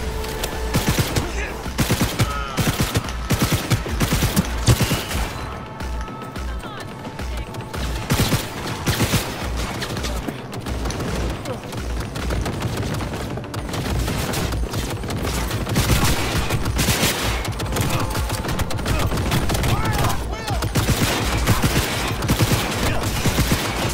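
Dense, sustained gunfire from the video game Cyberpunk 2077, with rapid overlapping bursts and shots throughout, loud and continuous, mixed with game effects and occasional voices.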